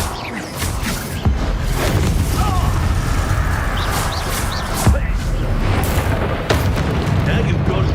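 A Confringo blasting spell in Hogwarts Legacy: loud booming explosions burst repeatedly over dense combat noise, with sharp hits at several points and voices shouting amid the fight.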